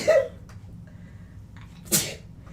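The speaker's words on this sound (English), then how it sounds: "Oh, I gotta sneeze." A single sharp sneeze bursts out near the mic after a brief intake of breath, preceded by a short vocal sound and quiet room noise.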